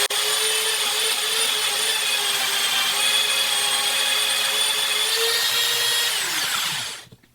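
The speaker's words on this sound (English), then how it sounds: "That's the wire wheel." A Neu Master 180W rotary tool fitted with a wire wheel runs with a loud, steady high-pitched whine for several seconds close by, then spins down and fades at the end.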